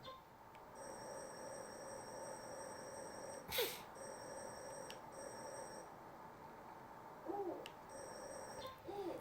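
Bird ambience in the video game Hyrule Warriors: Age of Calamity, with soft distant chirps and calls sitting over a steady outdoor background, plus a few brief louder sounds.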